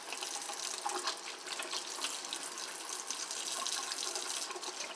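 Warm tap water runs steadily into a bathroom sink during a nighttime face-washing routine, a continuous close, loud gushing stream with no voices.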